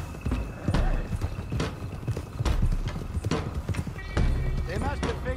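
Galloping horses in Red Dead Redemption 2, a steady run of hoofbeats with occasional whinnies over a game soundtrack, with voices talking intermittently on top.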